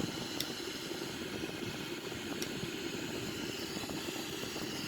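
A Sukhoi Su-30MK2 jet in a flight simulator rolls down the runway for takeoff with full thrust and afterburner, giving a steady, loud engine roar with broad rumble and hiss that holds unbroken and without speech.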